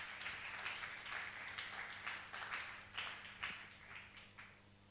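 A congregation at a church seminar on grace applauds, a soft, distant patter of many hands clapping in uneven bursts that swell and fade.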